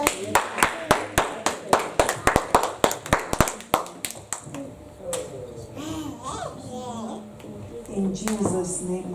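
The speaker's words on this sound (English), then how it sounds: "Clap your hands and celebrate God" A congregation clapping hands at a church prayer service, with a run of sharp, rhythmic claps near the front that fades out halfway, followed by people talking and a voice.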